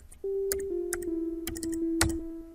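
Computer keyboard keys tapped one at a time, several sharp clicks spread across a few seconds over a steady sustained synthesizer tone in a music production program.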